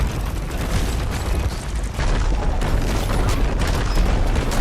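Hover tank cannon fire in a video game: continuous loud booming blasts and rumbling explosions, a dense barrage with a sharper burst near the two-second mark, no talking.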